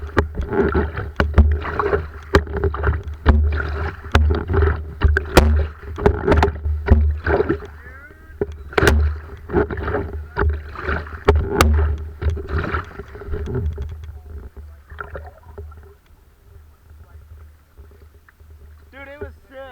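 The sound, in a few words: kayak running river rapids in Alaska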